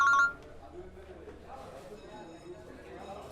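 A phone number being dialed, heard as a short burst of keypad tones at the start, then fading under low background murmur and voices in a comedy scene.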